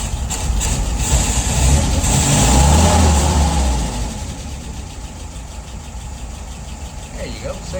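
A car engine idles at low speed, its steady rumble swelling slightly and then easing back as the idle speed is adjusted, with a continuous low drone throughout.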